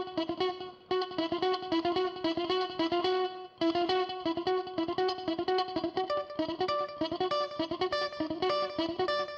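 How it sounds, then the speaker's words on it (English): Electric guitar playing a country lick with hybrid and chicken picking, snappy staccato plucked notes in quick bursts with short pauses, up close and slightly distorted with some reverb. "so that's basically what's known as chicken picking."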